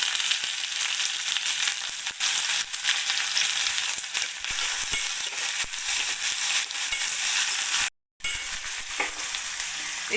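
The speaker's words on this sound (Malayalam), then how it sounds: "ഇനി നമുക്ക് അരിഞ്ഞെടുത്ത് സവാളയും തക്കാളിയും കൂടി ഇട്ട് കൊടുത്ത് ഇളക്കിയെടുക്കാം." Sliced onions and tomatoes sauté loudly in a pan for a mutton curry, a dense steady sizzle broken by scraping stirs. There is one brief total dropout near the end.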